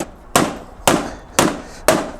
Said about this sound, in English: I feel like I may need a proper hammer to go any further